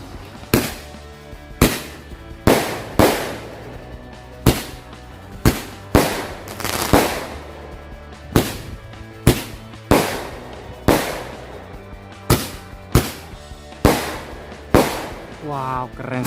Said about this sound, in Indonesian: yang selanjutnya kita nyalain 2 buah mercon Roman candle sekaligus